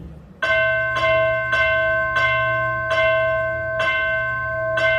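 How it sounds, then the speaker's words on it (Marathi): A loud justice bell outside a royal court in a stage drama, struck repeatedly in an even rhythm about every half second to a second, each strike ringing with a bright sustained metallic tone over a low background drone. "दरबाराबाहेरची न्यायाची घंटा एके दिवशी घडघडू लागली"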